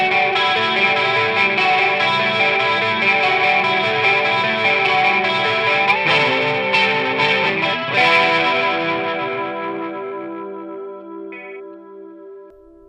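Electric guitar run through drive, chorus, delay and reverb pedals, sustained chords and notes ringing loud and steady, then trailing off into a fading reverb tail near the end, with no talking.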